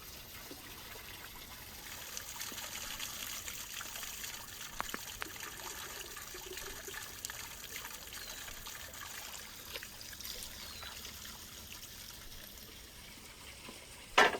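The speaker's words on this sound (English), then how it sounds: "I put a basin on the fire and go to fill some water to add it to the dish." Water trickling and splashing into a basin outdoors beside a cooking fire, a soft continuous pour with faint clinks, fairly quiet and close, ending in a brief louder knock.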